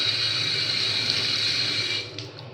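Filtered water, passed through softener, sediment stages and ultraviolet treatment, pours steadily from a household tap in a strong continuous hiss, then cuts off near the end.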